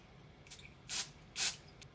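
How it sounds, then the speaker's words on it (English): Two short, sharp hissing sprays from a can of temporary hairspray, close up, with a fainter puff before and after. "Some temporary hairspray"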